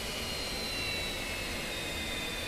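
F-86F Sabre jet engine in DCS World spooling up on the ground, a loud sustained turbine roar with high whining tones that shift slowly in pitch as it revs.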